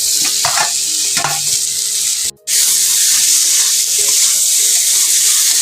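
Potatoes and onion frying in spices for a fish curry, a loud, close, continuous sizzle with a few clattering stirs early on and a sudden brief silence partway through before the hiss resumes.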